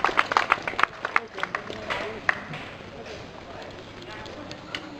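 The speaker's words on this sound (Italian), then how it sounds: "Un applauso alla signora Lavagnini" Scattered hand claps from a small outdoor crowd honour a painting competition winner at an eel festival. The claps are brisk and uneven, a voice talks over them, and they thin out after about two seconds.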